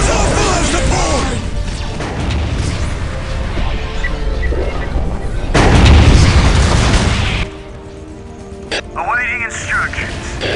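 Airstrike explosions from a Marauder bomber in the Warhammer 40,000 game Dawn of War: Soulstorm, a run of loud booming blasts that builds to a heavy burst midway, then drops away beneath busy battle noise.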